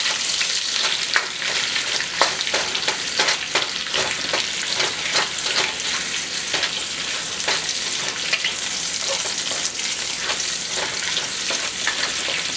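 Garlic and ginger sizzling in hot oil in a wok, a steady loud crackle with frequent stirring scrapes throughout.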